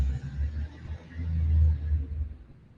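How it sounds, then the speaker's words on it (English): A garbage truck collects trash just outside a window, heard as a low, steady engine rumble that swells and fades over a few seconds, muffled and moderately distant, with no talking. "garbage truck is just outside my window, making a noise, collecting the trash"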